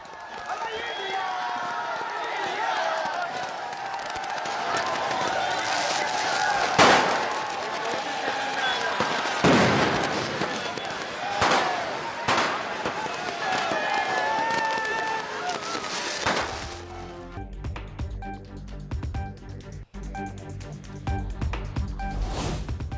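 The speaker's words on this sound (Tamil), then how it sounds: "பட்டாசுகள் வெடித்தும் ஆடிப்பாடியும் ஆரவாரம்" Firecrackers burst sharply several times amid a noisy crowd celebrating India's women's cricket team winning the 50-over World Cup, then rhythmic music takes over.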